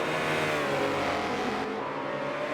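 Race cars at Road America, a Mercedes braking hard behind a McLaren, give a steady, close engine roar that shifts slightly in pitch as it slows, with no talking.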